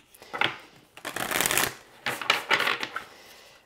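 A deck of stiff, rigid oracle cards is shuffled by hand close by, making several bursts of crisp riffling and flapping across a few seconds.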